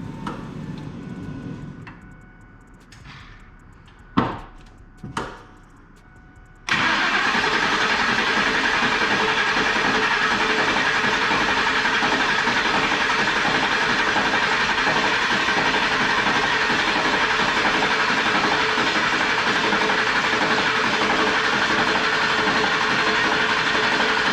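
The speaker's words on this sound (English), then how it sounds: "we're gonna crank it, get oil pressure up here" A 1,000 HP sleeper Ford F150 engine cranks over to build oil pressure: after a few sharp knocks, a loud, steady mechanical starter drone sets in and holds without stopping.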